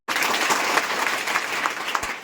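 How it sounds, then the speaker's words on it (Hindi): Applause from a small group of about three people at an educational workshop and felicitation event, a steady patter of clapping lasting throughout, moderately close with no talk over it. "वहां से 3 बंदे ने ताली मारा है"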